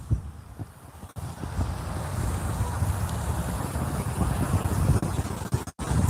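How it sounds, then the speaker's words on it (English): Gusty wind buffets the microphone outdoors at a park-bench fishing spot, a steady low roar that rises after the first second and holds loud and continuous with brief dropouts, no voices over it. "It's definitely windy though."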